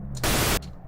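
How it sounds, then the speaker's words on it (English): Pink noise sample triggered in Ableton bursts in as a short, loud, steady hiss lasting about a third of a second over a low background hum, then cuts off abruptly. "I'm going to grab a pink noise."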